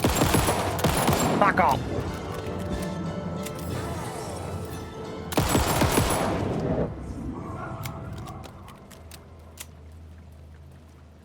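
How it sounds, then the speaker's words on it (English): Rapid automatic gunfire from a gun in the video game Alan Wake II, one dense burst at the start and another around midway, with a short shout and game sounds in between. "Sometimes this gun fires more than I'm pressing for. Like it proper spews out the bullets."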